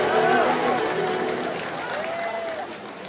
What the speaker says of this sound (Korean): 다시 한번 큰 박수로 맞이해 주시기 바랍니다